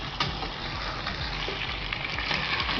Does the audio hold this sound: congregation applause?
no